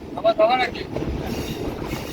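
The Bhatiapara Mail train pulls into Bhatiapara Ghat railway station in Bangladesh with a loud, steady rolling rumble, a short high squeal near the start, and a voice briefly heard over it.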